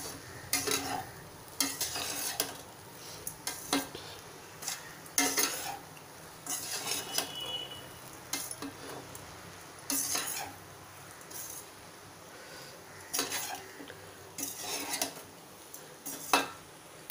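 Potatoes and poha are stirred in a pan for kanda batata poha: repeated scraping, clinking utensil strokes arrive in irregular bursts over a low background sizzle, fairly close and with no talking.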